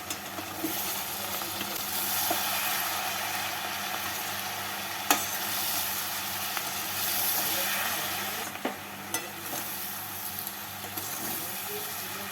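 Prawns frying with turmeric, red chilli powder and Kashmiri chilli powder in a pan give a steady, close sizzle throughout, with a few sharp clicks of utensil against metal.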